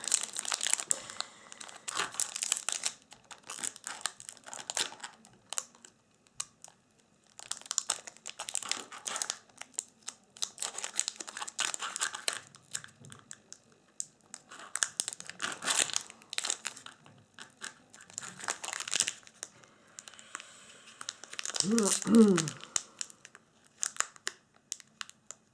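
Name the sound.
opening a Magic: The Gathering booster pack wrapper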